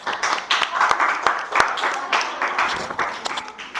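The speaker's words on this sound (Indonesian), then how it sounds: "Terima kasih tepuk tangan untuk kelompok 3" Classroom group applauding for group 3 in a teaching-practice session, scattered uneven hand claps with distinct sharp hits rising and falling, fairly close and moderately loud, with some voices mixed in.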